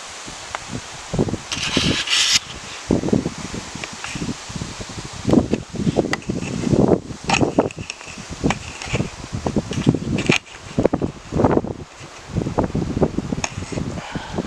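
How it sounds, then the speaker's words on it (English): Gusty wind buffets the microphone outdoors after a day of rain, coming in irregular low rumbling bursts with some rustling, close and uneven, with no speech. "Sorry about the wind."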